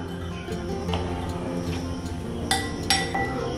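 Dry spices, including a little Maggi masala, are stirred together in a bowl for a bread snack, with a spoon clinking against the bowl's sides in a steady run of light scrapes and a few sharper taps near the end.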